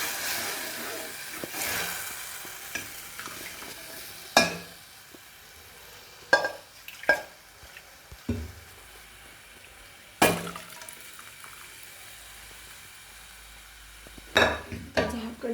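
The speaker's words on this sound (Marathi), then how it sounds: "तेलावर चांगलं परतून घ्यायचं हे बघा आता हे डाळ घालून घ्यायची त्यात" Urad dal stirred and fried in hot oil for a traditional Satara-style ghute, with a soft, steady sizzle under repeated scraping and clinking of a spoon against the pan, several sharp knocks standing out.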